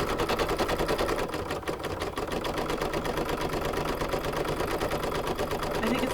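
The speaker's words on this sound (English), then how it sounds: "And it's just going to do this last little bit of stitching." An embroidery machine stitches an appliqué flower coaster in the hoop with a fast, steady mechanical chatter, loud and close, running without pause throughout.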